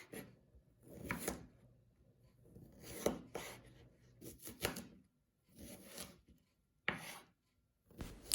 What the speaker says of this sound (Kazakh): Ең алдымен қиярларымызды жуып, оның артық жерлерін кесіп тастап, видеода көрсетілгендей турап аламыз.